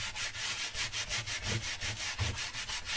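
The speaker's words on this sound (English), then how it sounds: "spray this foamy stuff on it, and then scrub it with the bristles" A bristle brush scrubs foam cleaner into car upholstery in quick, even back-and-forth strokes, a close, rhythmic rasping heard alone.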